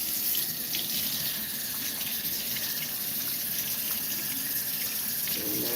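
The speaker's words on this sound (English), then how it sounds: "Do a rinse." A fish being rinsed under a running kitchen tap, with water gushing steadily into a sink for several seconds, close and unbroken, with no voices.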